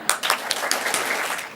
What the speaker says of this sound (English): And I've got to get you to clap 5 times.